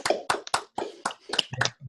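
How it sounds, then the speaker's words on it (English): Several separate bursts of claps come through a video call at the end of a university seminar on machine learning for query optimization, uneven and clipped with gaps of silence between them. "Maybe you can unmute and clap with me"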